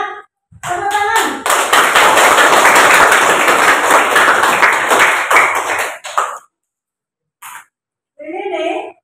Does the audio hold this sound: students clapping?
yes